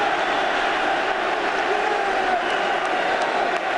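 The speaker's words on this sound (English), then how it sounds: "they're cheering Argentina" A large stadium crowd at a rugby World Cup quarter-final between France and Argentina cheers Argentina in a steady, loud, sustained roar with no breaks.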